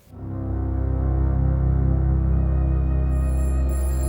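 A telephone rings in a stairwell late at night, a loud, sustained electronic tone with a buzzing, rhythmic warble that starts abruptly and holds steady, alone with no voices.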